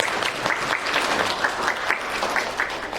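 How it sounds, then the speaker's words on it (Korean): A church congregation claps steadily for its worship team during a Sunday service, a dense and sustained round of applause with no voices over it. "우리 찬양팀들에게 정말 수고한다고 한번 박수로 한번 격려해 주시면"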